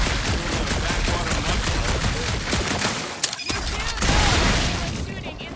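Gunfire in the video game Guardians of the Galaxy, dense rapid bursts of shots layered with loud game effects and music, briefly dropping out before resuming at full intensity.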